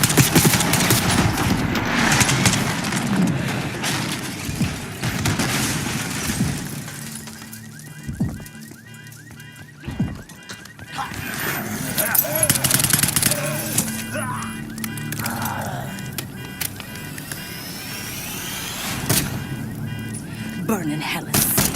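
Video game Call of Duty Black Ops 6: bursts of gunfire and shattering crash out in a street firefight as a limo approaches, mixed with loud shouted dialogue and a music score.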